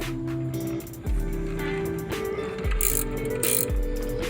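Socket wrench removing 10 mm bolts from a 196cc/212cc minibike engine, a run of quick ratcheting clicks with small metallic knocks, close up, with no talk.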